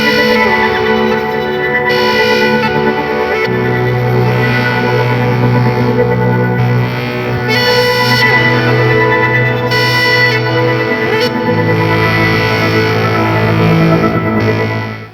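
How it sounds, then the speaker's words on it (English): An electric guitar runs through an effects pedal that blends distortion with spacey echo and chorus textures, producing sustained, layered chords and droning tones that stay loud and continuous throughout, with no voices. "This lets you create everything from wild interstellar soundscapes to your own homegrown distortion blends."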